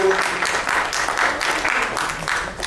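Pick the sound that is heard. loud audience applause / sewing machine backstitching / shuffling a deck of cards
loud audience applause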